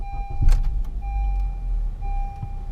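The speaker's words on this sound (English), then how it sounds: "we're going to go ahead and start it up" The engine of a 2015 Honda Accord, which has sat heat-soaking with intake valve cleaner, starts up after a click. It settles into a low, steady rumble close by.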